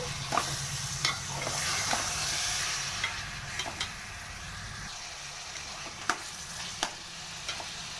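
Half a kilo of chicken sizzles loudly in a pan with onions for a curry, with steady frying hiss and sharp utensil clicks and scrapes as it is stirred.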